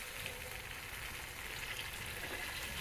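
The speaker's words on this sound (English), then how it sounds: "We'll have to fry it on high heat because already the filling is cooked, so we have to just fry it till the covering is nice and crisp" Green gram sukhiyan, a filled Kerala tea-shop snack, frying in hot oil over high heat: a dense, steady, close sizzle with constant bubbling hiss throughout and no voices.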